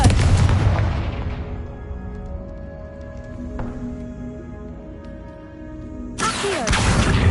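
A Confringo spell explodes in Hogwarts Legacy: a loud broadband blast opens the clip and decays into a ringing tail, then a second burst of noise hits sharply near the end.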